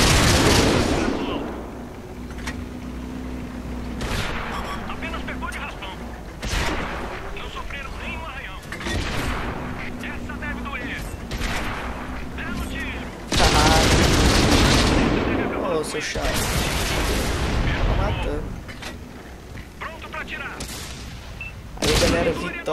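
Tank cannons boom in a World of Tanks battle, heavy blasts landing every few seconds with rumbling tails and a large close shot partway through, under game music and effects.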